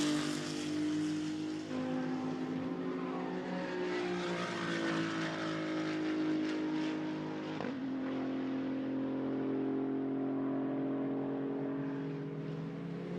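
A loud GT2 race car engine roars close by at Hockenheim, dropping pitch as it brakes and downshifts to second gear, then climbing again as it accelerates hard.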